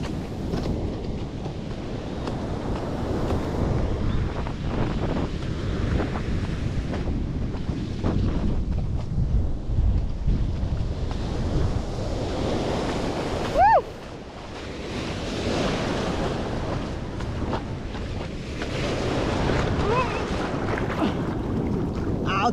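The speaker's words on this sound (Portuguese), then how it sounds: "Altas ondas!" Big ocean waves break and roll in steadily at Praia do Norte in Nazaré, Portugal, heard from the water beside a bodyboarder, with heavy wind buffeting the microphone and continuous loud surf rumble throughout.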